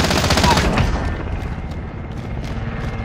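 Rapid bursts of DMR rifle fire in Call of Duty: Modern Warfare, loud and close, with dense booming shots that taper into a rumbling tail.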